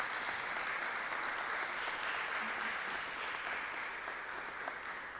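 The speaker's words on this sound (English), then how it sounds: "Let us applaud for Coach John, a remarkable coach" Steady, dense applause from a large graduation audience fills the space evenly, a continuous wash of many hands clapping at once with no gaps.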